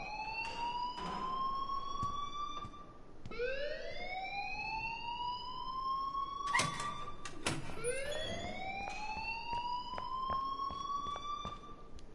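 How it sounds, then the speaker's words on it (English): The school alarm in the video game Life is Strange wails loudly in repeated rising sweeps, three slow climbing tones over steady background noise with scattered sharp clicks and no speech. "please turn off that alarm since that's your job"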